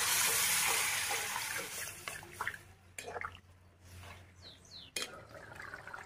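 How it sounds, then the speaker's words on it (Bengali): Water poured into a pan of frying cauliflower for a cauliflower and potato curry, a soft splashing hiss with drips and a brief louder gush, fairly quiet and with no talking. "ভাজা হয়ে গেছে, আমি এখন জল দিব।"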